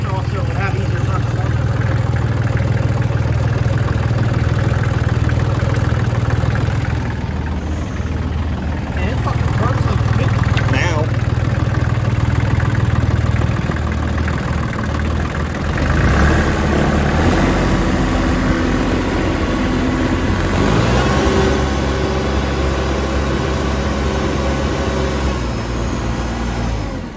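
A New Holland TC29 diesel tractor idles roughly and continuously close by, with its low engine rumble shifting a little over the stretch.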